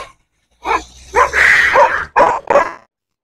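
The neighbour's dogs bark in a few loud, close bursts with short gaps between them, the rough barks running into whimpering yips.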